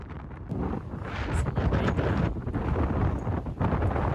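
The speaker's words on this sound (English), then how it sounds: "It's a little windy on this boat." Strong, steady wind buffets the microphone for several seconds, a continuous low roar with gusty swells and faint rustling, no voices.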